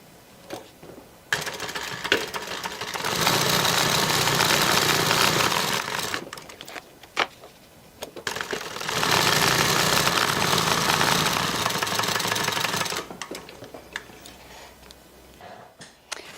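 Sewing machine stitching bag pieces for an evening bag made from a clutch, two sustained loud whirring runs of several seconds each with a pause between, and quieter handling noises around them.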